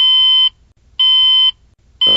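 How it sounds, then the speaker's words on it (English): Alarm ringing in electronic beeps, two long loud tones about half a second each with a gap between, then a third beginning as the sound cuts off, with no talk. "my alarm rings"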